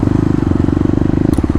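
A Kawasaki KLX250 motorcycle with Stage 1 mods accelerates hard, its single-cylinder engine giving a loud, close, rapid pulsing beat at high revs, then a brief break as it shifts gear.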